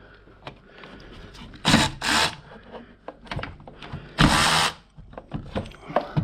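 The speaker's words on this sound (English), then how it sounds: "So I'll just loosen all these bolts off. A lot easier with the electric ratchet." Electric ratchet loosening the pulley bolts on a Ford Escort Cosworth engine, several short loud whirring bursts separated by quieter clicks and handling noises close by.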